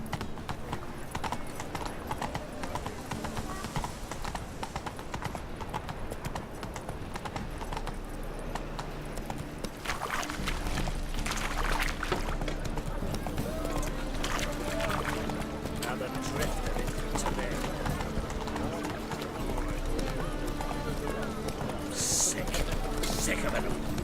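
A horse ridden in The Witcher 3 clip-clops in a steady rhythm at a trot, with brief character voices and game music layered over the hooves.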